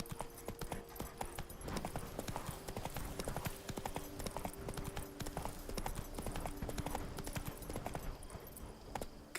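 Horse galloping in the Witcher 3 video game, rapid rhythmic hoof clip-clops running steadily and close throughout, with faint game sounds underneath.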